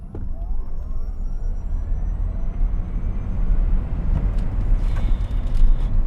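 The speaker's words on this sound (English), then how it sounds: "That is the quickest accelerating vehicle I've ever driven." A 1,020 hp Tesla Model S Plaid launching hard from a standstill, a loud, steady electric whine and rushing wind and road roar that build over several seconds, with no speech.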